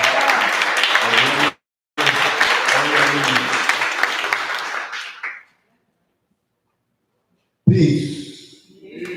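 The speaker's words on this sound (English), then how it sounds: "Give him a big round of applause, everybody." An audience at a press conference for the 53rd annual African American Day Parade applauds a parade founder, with dense clapping that stops briefly, resumes, then fades into silence before a voice starts speaking.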